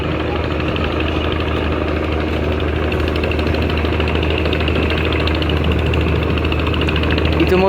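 A passenger launch's engine runs steadily on a river at Barishal as the boat picks up speed after reversing, a loud continuous low drone and rumble with no pauses.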